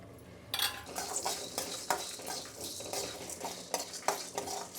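Peppercorns, cumin, fenugreek and dried red chilies being stirred and dry-roasted in a pan, with repeated close scraping strokes and clinks over a faint sizzle, no talking.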